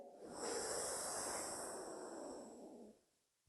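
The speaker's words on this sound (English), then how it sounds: "Breathe in through your nose." One long, loud inhale drawn in through the nose, a rushing, hissy airflow that swells and holds for about two and a half seconds before tapering off, heard alone.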